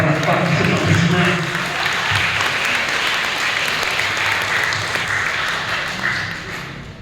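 Congregation applauding the Lord during a revival Sunday worship service, dense and loud sustained clapping from a large crowd with cheering voices mixed in, steady throughout and tapering slightly at the end.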